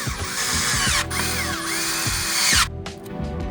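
A power tool whirs loudly and steadily up close as it spins out engine bolts during a car service, with short dips in pitch and a final rattle as it stops.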